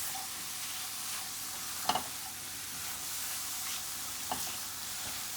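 Mushrooms being stirred with black pepper in a hot pan, a steady soft sizzle running throughout with a couple of brief scraping clinks of a utensil against the pan.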